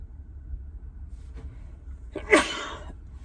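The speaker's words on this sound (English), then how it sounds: "I'm going to sneeze" A single sharp sneeze bursts out near the microphone after a couple of seconds of quiet background hum.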